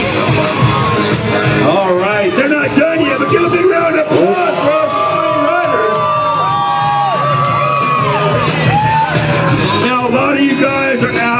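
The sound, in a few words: crowd cheering and applauding for motocross riders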